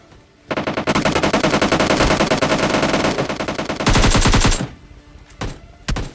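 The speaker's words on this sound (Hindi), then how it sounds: "जब मैं यहाँ से गाड़ी घुमा रहा था, तब मुझे थोड़ी रियल प्लेयर की फायरिंग की आवाज़ आती है" Rapid bursts of automatic gunfire crackle loudly and almost continuously, with a brief pause before a few final shots ring out.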